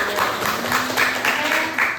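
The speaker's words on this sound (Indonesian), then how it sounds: "Oke, tepuk tangan dong." A classroom full of students applauds steadily, a dense patter of many hands with a faint voice running beneath it throughout.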